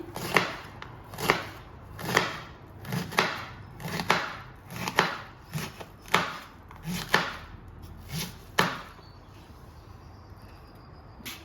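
Knife chopping taro stems for a curry, about a dozen evenly spaced close, sharp cuts on a board in a steady rhythm, then a short quiet stretch with faint insect chirping in the background.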